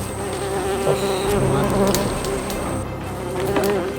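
Dense swarm of wild honeybees buzzing around a hive in the Sundarbans mangrove forest, a steady close hum with individual insects droning past, no talking.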